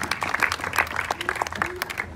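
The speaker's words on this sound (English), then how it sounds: "Send them deeper with applause," Short, steady burst of crowd applause at a stage hypnosis show, with brisk, dense clapping from a nearby audience throughout and a voice faintly mixed in.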